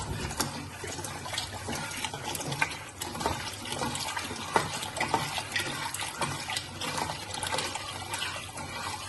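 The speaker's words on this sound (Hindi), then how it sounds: "ये दूध है, मेरी 1 किलो है, तो ये भी आप डाल देंगे" Milk pours continuously into a pan of suji halwa for a one-kilo batch, giving a steady splashing, gurgling stream of liquid close by, with no talking.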